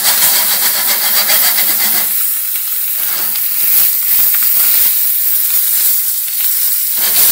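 Duck pieces searing in a hot pan, a loud continuous hissing sizzle close up, rising sharply at the start and then holding steady.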